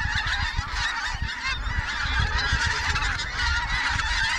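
Loud, dense chorus of pink-footed geese honking continuously from a large flock during a hunt in Scotland, many overlapping calls close and far with no talk.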